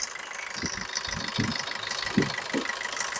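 A 2017 Maruti Swift VDI diesel engine idles up close with the bonnet open, a steady low rumble broken by regular knocking pulses.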